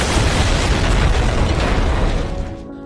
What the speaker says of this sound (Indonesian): gedung Bursa Efek Jakarta meledak dengan dahsyat